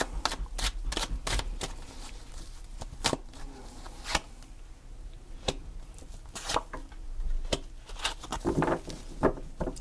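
Tarot cards shuffled by hand, a steady run of sharp, close riffling snaps and flicks that keep coming throughout with no talking.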